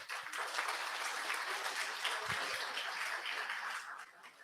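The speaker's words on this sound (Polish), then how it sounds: "Wielkie brawa." A symposium audience at a rescue and emergency medicine event breaks into dense, steady applause, many hands clapping together evenly for several seconds before easing off slightly at the end.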